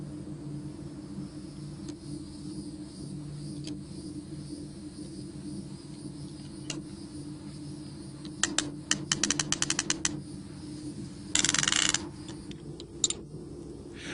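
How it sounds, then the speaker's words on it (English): A ratchet tensioner cranks to tighten electric fence braid, producing a quick run of sharp mechanical clicks followed by a brief rasp, heard over a steady low outdoor hum. "Return to the beginning post and attach the ratchet system and tension the braid."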